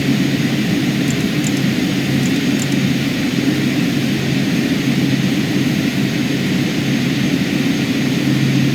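Twin-turboprop Carenado King Air B200 in Microsoft Flight Simulator 2020 drones steadily in a climb, a loud unbroken engine roar with a constant low hum and faint high whine, engine overtorqued, no talk.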